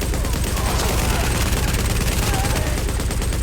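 Light machine gun in The Division video game firing a continuous dense burst, loud and sustained throughout.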